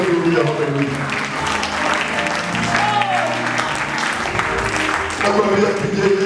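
A church congregation clapping for Jesus during a sermon, dense continuous applause mixed with voices, loud and close, with a sung or called-out voice rising over the crowd.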